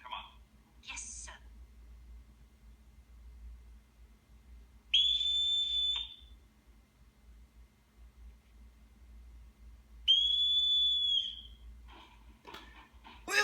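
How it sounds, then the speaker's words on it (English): Whistle blown to give commands in The Sound of Music, two sharp bursts of a shrill, slightly falling whistle separated by quiet, with brief faint sounds at the start and end. "he uses that whistle to get his children to do commands"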